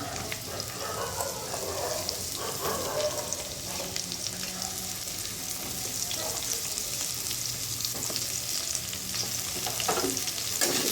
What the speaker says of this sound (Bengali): ভালো করে ভেজে নেবো, ঝিঙেগুলো আলুর সঙ্গে।